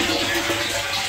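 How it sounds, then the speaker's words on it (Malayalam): Water runs into a water tank, a steady rushing flow without a break over about a second. "ഇവിടെ കൂടിയാണ് വെള്ളം വരുന്നത്"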